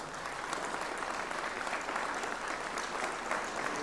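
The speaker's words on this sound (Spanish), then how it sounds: "continúen con ese aplauso cariñoso y fuerte" Audience applause from a live crowd at a farewell show, dense and steady clapping sustained at full strength throughout with no talk over it.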